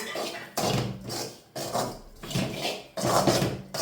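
Spoon stirring ground coriander, chilli powder and turmeric into a Kerala prawn curry in a pan, giving repeated scraping and clinking strokes in an even rhythm, close and fairly loud, with no talk.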